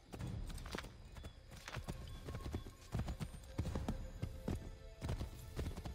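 A horse gallops in Assassin's Creed 3, with continuous rapid clip-clop hoofbeats, close and steady, and a whinny among them.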